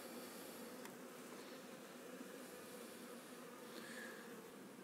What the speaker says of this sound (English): You can see how full this hive is.